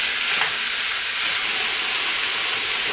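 Pork sizzles steadily in a hot pan, partly cooked for a spicy pork dish, a loud, continuous frying hiss with no pauses.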